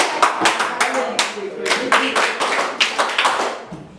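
A class of students claps together in rhythmic bursts, a series of sharp, close group claps in a repeating pattern, with brief pauses between groups.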